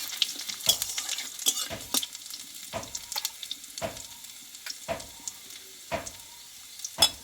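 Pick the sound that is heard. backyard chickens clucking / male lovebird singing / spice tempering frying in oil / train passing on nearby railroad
spice tempering frying in oil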